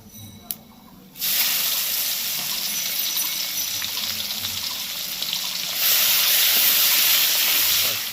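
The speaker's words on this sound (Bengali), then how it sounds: "চিংড়িটা এর মধ্যেই ভাজবো একটুখানি হলুদ আর নুন দিয়ে দিচ্ছি" Prawns fry in a pan with a pinch of turmeric and salt: a loud, steady sizzling hiss kicks in abruptly and surges even louder toward the end.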